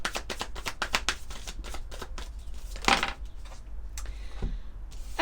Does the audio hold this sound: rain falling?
no